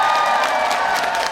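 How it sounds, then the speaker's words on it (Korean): Outdoor crowd at a Daegaya festival concert clapping and cheering with whoops, a dense steady wash of applause and voices that stays loud for the whole short stretch. "이분들께 박수 한 번만 부탁드리겠습니다."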